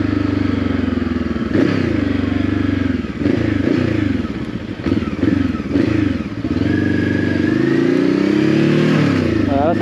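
A 2023 Voge 525 ACX motorcycle is ridden on the road, its engine loud and close with repeated revving surges and gear-change dips, wind noise beneath, then a rising whine toward the end.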